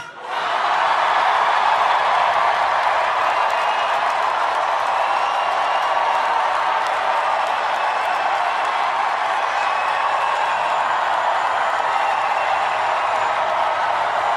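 A large political rally crowd cheers and applauds in a continuous roaring wash that holds loud and steady throughout, with no clear individual voices.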